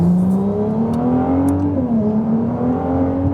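Ferrari 296 GTB engine accelerating: a loud, close engine note climbing steadily in pitch, briefly dipping at a gear change, then rising again, with no voices.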